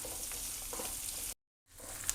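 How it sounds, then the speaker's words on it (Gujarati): Chopped onion fries in hot oil with asafoetida, three dry red chillies and a bay leaf, giving a steady close sizzle that cuts out completely for a moment before the crackle returns. "હવે ડુંગળી સોફ્ટ થાય ત્યાં સુધી આપણે બધું સોતરી લેવાનું છે"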